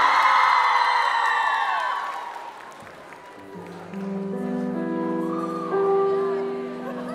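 Audience at a cosplay show applauds and whoops loudly for a few seconds, then the cheering fades as music begins and carries on over the quieter crowd.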